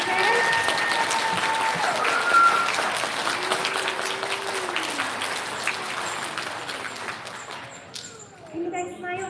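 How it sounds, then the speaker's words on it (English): An elementary school ceremony audience gives a steady round of applause for three pre-K students, clapping that slowly fades and gives way to voices. "Can we have a big round of applause for our 3 pre-Ks?"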